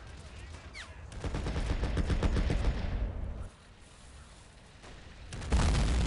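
Mortar fire in the Men of War Assault Squad strategy game, heard as a dense rattle of rapid gunfire and booming shots that drops to a quieter rumble, then a loud burst near the end.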